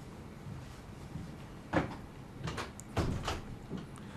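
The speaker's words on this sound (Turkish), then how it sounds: "şu kapıyı kapatsana ya." A door is pushed shut indoors, with a sharp thud, then a couple of softer knocks and a second solid bump a moment later, all against a quiet room background.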